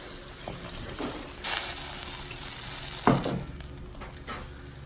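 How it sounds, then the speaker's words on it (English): Two cups of water pour into a hot cooking pan with a brief hissing sizzle, followed by quieter bubbling and a faint stirring clatter. "I'm going to add 2 cups of water."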